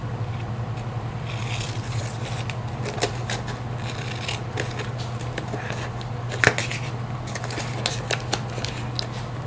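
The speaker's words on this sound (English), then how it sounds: "Ugh. These scissors." Scissors snip through scraps of paper in a crafting session, an irregular run of close, crisp cuts and rustles over a steady low hum.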